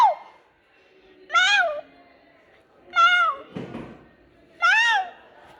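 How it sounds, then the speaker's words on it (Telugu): A black cat gives three clear, close meows spaced evenly apart, each rising then falling, with a soft thud between them in an otherwise quiet room. "ఇది నల్ల పిల్లినా?"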